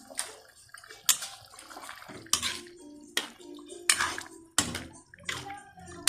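Spoon scraping and knocking inside a pot while pork menudo with potatoes and carrots is stirred, in irregular close clanks with wet sloshing between them and quieter pauses.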